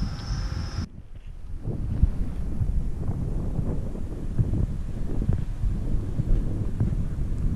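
Steady wind buffeting the microphone outdoors while cycling into a headwind, a low continuous rumble and roar with no one speaking.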